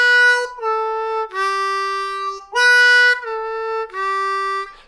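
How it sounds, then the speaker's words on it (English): Blues harmonica playing a short phrase of bent 3-hole draw notes alternating with 3-hole blow notes, a clear reedy tone in four sustained phrases with brief gaps, close and alone. "which is a melody that goes 3 draw whole step bend,"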